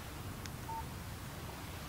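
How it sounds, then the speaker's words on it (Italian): A short electronic alert chirps once, briefly and faintly, over a low steady background hum, like a phone text message notification in the Alan Wake video game. "Un SMS di Barry"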